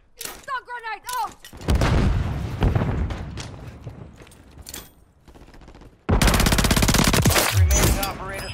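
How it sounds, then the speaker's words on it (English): A stun grenade goes off in Call of Duty on Rebirth Island, a loud burst amid rapid, dense gunfire and booms, with a brief in-game voice before the chaos. "Stun grenade out!"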